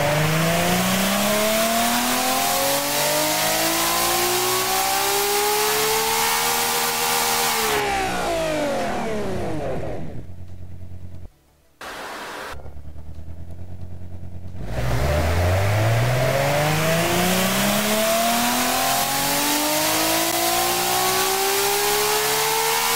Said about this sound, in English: Oh wow, this engine sounds absolutely incredible.